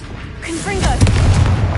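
A Confringo blasting spell from the video game Hogwarts Legacy gives a loud, close boom with a rumbling tail, coming right after a short shouted voice.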